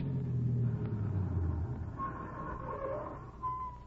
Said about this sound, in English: That car. Yes, I heard it.